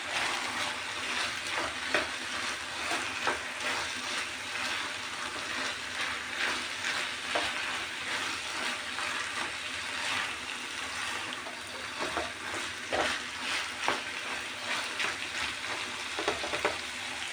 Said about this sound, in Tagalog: Ngayon, ilalagay ko yung ating carrots at ating potato.